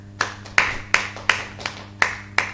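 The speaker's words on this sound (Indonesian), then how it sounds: "Kasih tepuk tangan dulu buat Tuhan kita." Sparse, slow clapping from a church congregation during an Indonesian sermon, about seven distinct claps at a steady rhythm, fairly close with a faint hum underneath.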